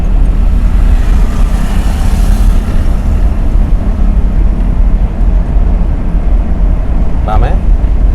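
A car engine during a driving-school lesson in Sylhet, running as a loud, steady low rumble with heavy cabin and road noise throughout; an instructor's voice is heard over it.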